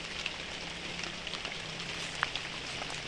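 Rain falls on a coffee plantation as a steady, dense hiss with scattered small drop ticks. It is continuous and even, with no voices over it.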